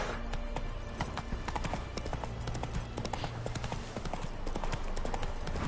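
Horse galloping in the video game The Witcher 3, a continuous rapid clip-clop of hooves running steadily throughout, fairly loud and unbroken with no talk over it.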